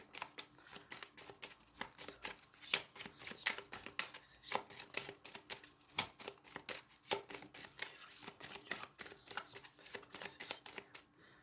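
A deck of tarot cards being shuffled for a reading, with close, continuous riffling and flicking of cards in a busy, fairly even rhythm throughout.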